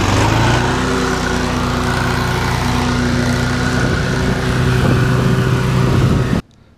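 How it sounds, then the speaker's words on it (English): A lawn mower engine runs steadily and loud while cutting grass on a lawn care job, holding a constant drone that cuts off abruptly near the end. "Get off my mower, I gotta cut."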